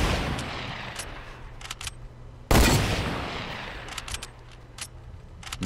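Fortnite Battle Royale gunfire, a single sharp, loud shot ringing out and decaying amid scattered quieter clicks and game noise, with no talk during it.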